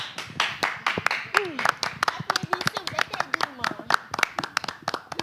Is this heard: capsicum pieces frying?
no